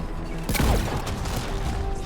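Gunfire in a Mass Effect 3 video game battle, a dense burst of weapon fire and crashing impacts peaking near the middle, loud and close over constant battle noise.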